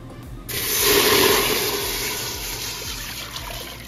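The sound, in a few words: water being poured into a cooking pot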